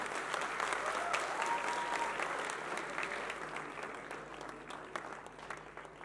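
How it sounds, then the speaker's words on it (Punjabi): Audience applause at a live music academy stage show, steady broadband clapping from a crowd that holds throughout and eases slightly toward the end, with no talk over it. "ਤਾੜੀਆਂ ਹੋ ਜਾਣਾ ਇੱਕ ਵਾਰੀ"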